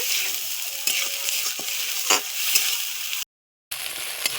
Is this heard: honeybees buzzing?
no